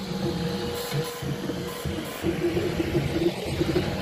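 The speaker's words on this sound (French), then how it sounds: "C'est parti pour l'impression à 150 mm/s." A Flsun SR 3D printer running a print at 150 mm/s, its stepper motors whirring in a steady pattern of short, tonal bursts as the head makes rapid travel, perimeter and infill moves, with a low hum running throughout.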